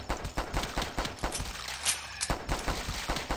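Gunshots fired at zombies in the video game The Last Stand, a rapid string of sharp cracks in a steady rhythm, close and fairly loud, with one brief lull in the middle and no talk.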